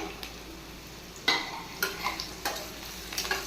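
Crushed garlic and cumin fry in hot oil with a soft, steady sizzle, punctuated by several sharp clinks of a spoon stirring against the pan, and no talking.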